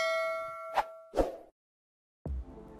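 Two bright bell dings ring out in quick succession, used as a notification chime sound effect, followed by a short silence and then another sound starting.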